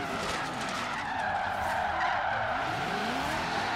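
Tires squealing in a long, continuous skid as a car drifts through a hairpin in Forza Horizon 3, steady and loud with engine noise underneath.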